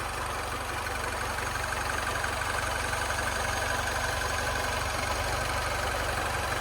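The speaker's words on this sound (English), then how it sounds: "So as you can tell, nice and smooth running engine." A 2011 Mini Cooper Countryman S turbocharged four-cylinder engine idles steadily and smoothly, a constant low rumble with a faint mechanical hum, with no other sounds.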